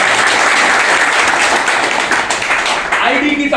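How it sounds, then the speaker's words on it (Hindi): Loud, dense applause fills a mobile repairing training class in Jabalpur as students clap for a classmate, sustained steady clapping for about three seconds that thins out toward the end. "तो इसके लिए बहुत जोरदार ताली"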